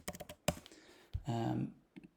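Quick bursts of typing on a computer keyboard while entering mixer channel names in M32 Edit software, a run of close, crisp key clicks followed by a longer tonal stretch and a couple of final taps.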